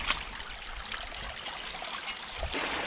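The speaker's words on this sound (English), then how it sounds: "get that water flowing" Water trickling and flowing steadily through a stream at a beaver trapping site, a continuous close-up babble with small splashes and no voices.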